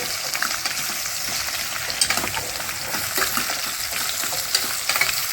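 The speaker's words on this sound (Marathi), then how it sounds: "भोपळे चांगलं हलवून घेऊ" Bottle gourd flowers are stirred in hot oil in a pan, giving a loud, continuous sizzle with a spatula scraping and turning them, close and with no talk.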